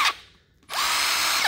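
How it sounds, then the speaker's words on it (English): A Milwaukee M18 brushless cordless impact wrench gives a short whirring burst, goes quiet for a moment, then runs again in a loud, sustained buzz nearby. "This is the greatest power tool, airless impact ever made."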